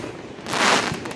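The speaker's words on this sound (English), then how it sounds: "It's planning for the fireworks." Fireworks go off over a lake during a holiday display, with one broad, rumbling burst swelling near the middle and settling back into a sustained crackling wash.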